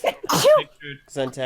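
A single sharp sneeze bursts out close to the mic in the middle of a podcast conversation, with people talking just before and after it.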